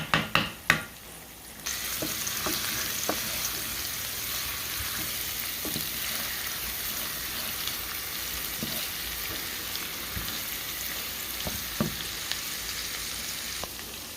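Spoonful of minced garlic dropped into a hot pan: a few sharp clatters at the start, then a steady, dense sizzle of frying that holds evenly throughout with occasional faint clicks, no voices.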